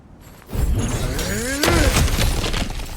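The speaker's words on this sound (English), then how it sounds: "back to smashing through things for fun and profit" Objects smashing and shattering in God of War Ragnarok, a loud burst of crashing and breaking debris with heavy thuds, sustained close and alone with no talk.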